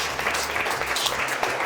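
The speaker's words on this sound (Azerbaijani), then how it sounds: "Bəli, alqışlayaq, xahiş edirəm." Studio audience at a talk show applauding, a dense, steady patter of many hands clapping close by throughout.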